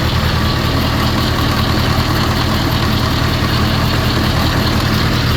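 A John Deere 2020 tractor engine runs steadily and loud, a constant close-up diesel idle with a dense low rumble and even mechanical chatter, unchanging throughout with no talking.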